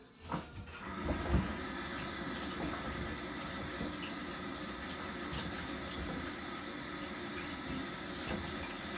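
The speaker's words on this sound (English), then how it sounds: "So I'm just going to wash my hands" Tap water runs steadily into a kitchen sink as hands are washed after handling floury pizza dough, a constant soft hiss with a louder splash near the start.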